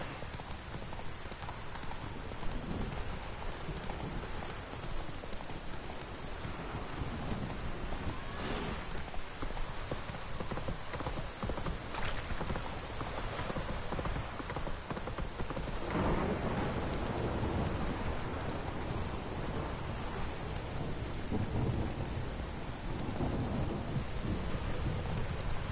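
Rain pours steadily in The Witcher 3, a dense hiss on surfaces broken by rumbling thunder rolls, with a horse's clip-clop mixed in under the storm.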